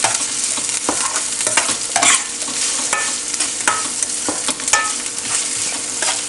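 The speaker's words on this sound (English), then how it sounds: "I'm going to let the onions fry till they start turning a slight golden brown" Onions and garlic frying in oil for a green tomato and shrimp dish: a loud, dense, continuous sizzle close by, with frequent sharp pops and scraping stir strokes scattered throughout.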